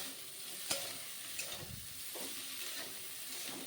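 Cauliflower florets and stems fry in a pan with turmeric, a soft steady sizzle with a few light clinks and stirring scrapes, no voices.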